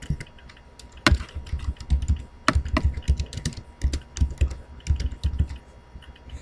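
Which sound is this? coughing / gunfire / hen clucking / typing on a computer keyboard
typing on a computer keyboard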